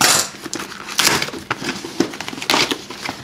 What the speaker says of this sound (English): Now, we need the scissors again. That is some thick tape.